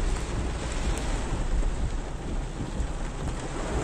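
Heavy rain pounds steadily on a car while driving from Araraquara to Motuca in São Paulo state, a dense, continuous roar with no voices.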